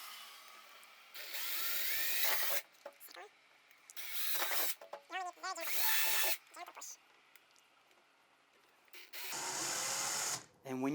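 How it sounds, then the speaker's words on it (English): A power drill whirs in short bursts while drilling holes in plastic, starting and stopping repeatedly with quiet gaps between, close by and fairly loud. "Now you drill the holes"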